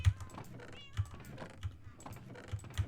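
Several in-game cats meowing together in a video game, short meows recurring over steady keyboard typing, with a few louder low thumps spaced through the passage.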